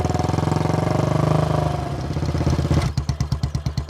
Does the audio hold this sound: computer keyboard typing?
no